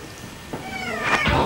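A cat meows twice up close, a short call followed by a longer, louder rising meow, with no other sound around it.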